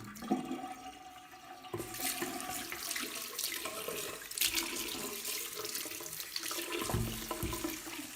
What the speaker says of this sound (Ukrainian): Та відкрий ще води.